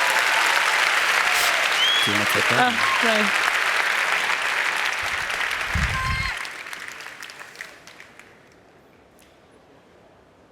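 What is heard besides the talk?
audience applause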